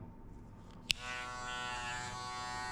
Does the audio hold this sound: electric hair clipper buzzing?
yes